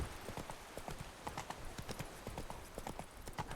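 Roach the horse trots in The Witcher 3, hooves clip-clopping in a quick, steady rhythm with crisp distinct strikes over a soft ambient background.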